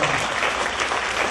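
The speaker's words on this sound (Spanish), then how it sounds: "Un aplauso a Dios." Congregation applauding during a church service, a short, dense burst of many hands clapping at once, loud and even, with no voices over it.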